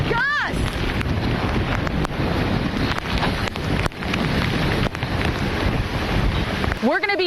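Hurricane Delta drives strong wind gusts that roar and buffet the microphone steadily at close range, with brief sharp bursts and a faint voice underneath.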